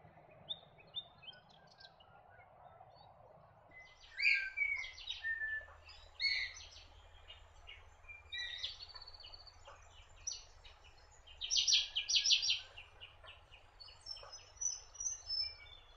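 Grey teal calling across a lake, a series of short, bright bird calls in scattered bursts, strongest toward the middle and end, over a steady low hum and faint insect-like background.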